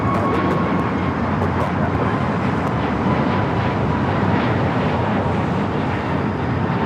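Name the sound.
military aircraft at LAX airport at night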